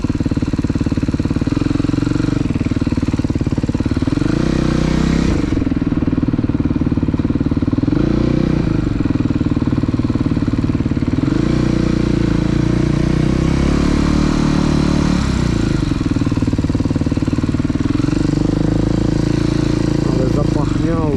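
A motorcycle engine runs loud and close, rising and falling through several revs over a steady rumbling idle, with a voice speaking over it.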